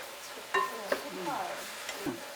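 Mushrooms being stir-fried in a pot, with soft sizzling and a few sharp utensil scrapes and knocks against the metal; brief voice sounds appear over the cooking noise.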